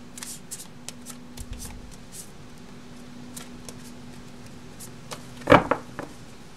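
Tarot cards being handled during a love reading: soft intermittent riffles and taps through the take, then a sharper burst of card shuffling near the end, close and fairly quiet.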